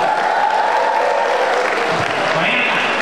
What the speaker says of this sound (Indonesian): Istimewa, tepuk tangan dulu.